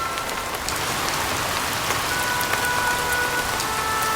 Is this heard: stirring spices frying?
no